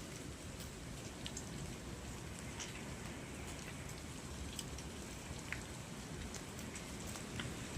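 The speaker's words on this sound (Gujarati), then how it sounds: "હાલ વરસાદ ગાજે છે, ટમટમ લાગે છે" Steady, soft patter of light rain with scattered drops ticking on a surface, fairly even throughout and no voices.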